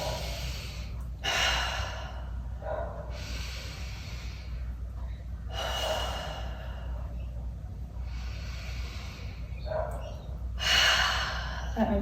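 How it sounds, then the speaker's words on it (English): Slow deep breaths during a stretching session, each long airy inhale and exhale repeating about every two to three seconds at close range, with no talking. "3 deep breaths."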